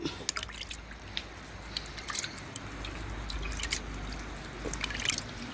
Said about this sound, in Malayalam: എല്ലാ ഇലയിലും വ്യാപിക്കത്തക്ക രീതിയിൽ നമ്മൾ ഒഴിച്ചു കൊടുക്കുക